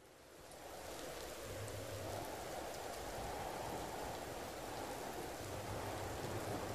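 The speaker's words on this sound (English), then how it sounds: "So it's raining right now." Rain falls in the survival game Empyrion – Galactic Survival, a steady soft hiss of rainfall that fades in over the first second and then holds evenly, quiet and with no talking over it.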